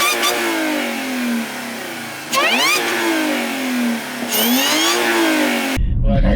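Tuned Audi A7 3.0 TFSI engine revs hard in several rising, falling sweeps, loud and close, with sharp climbs around the middle and end before cutting off abruptly.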